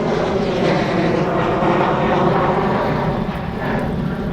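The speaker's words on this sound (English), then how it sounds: "getting an airplane going right over my head right now" An airplane passes directly overhead near the Nimitz Bridge, a loud, steady, broadband engine roar that fills the whole moment with no talk.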